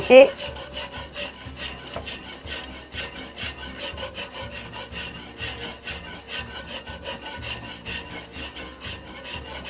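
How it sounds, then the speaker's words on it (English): A spoon or spatula scrapes and stirs steadily across the bottom of a pan, loosening browned bits left from frying cube steak. The close, rasping strokes repeat in a rhythm throughout, with no talking. "Just keep stirring, getting all those little brown bits off the bottom of your pan."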